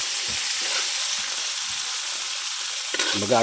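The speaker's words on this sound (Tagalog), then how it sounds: "Gigisa na po ako ng sibuyas, kamatis, tsaka bawang." Onion, tomato and garlic sautéing in a well-used pan, a steady loud sizzle throughout with a few stirring scrapes and a brief clatter near the end.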